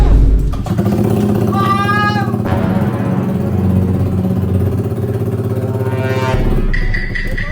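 Motorcycle with an open pipe exhaust revving loudly up close, a raw rumbling idle rising into sharp throttle blips, with a brief voice near the start.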